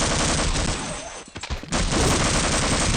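An MP5 in Half-Life launches grenades, giving loud, dense roaring blasts that fill the clip, broken by a brief dip and a few short cracks before the explosive rumble resumes at full strength.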